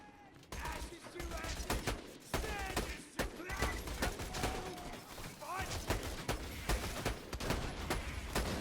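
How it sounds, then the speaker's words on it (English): Gunfire in Borderlands 2 during a pirate-themed battle: dense, constant rapid shots and sharp cracks from several weapons, with enemy voices shouting amid the commotion, fairly quiet overall. "Can't really see what I'm shooting at because of all the commotion going on up there"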